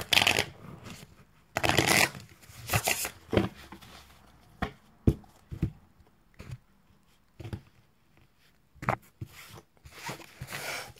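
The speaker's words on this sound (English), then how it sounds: "new tarot, and they're really hard to shuffle" New, stiff tarot cards being shuffled by hand, uneven bursts of riffling and slapping card noise with pauses between, close and fairly quiet, no talking.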